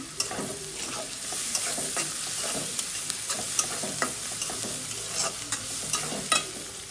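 Bay leaves, cardamom and whole garam masala crackle in hot oil while a spatula stirs them, giving a close, continuous sizzle punctuated by quick, regular scraping strokes on the pan.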